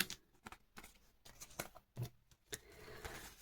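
Paper gift packet with a cute bear print being handled up close: soft rustles, crinkles and light taps in irregular bursts, quiet with no talking.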